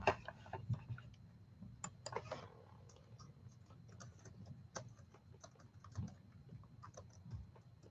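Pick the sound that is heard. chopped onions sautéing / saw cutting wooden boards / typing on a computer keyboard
typing on a computer keyboard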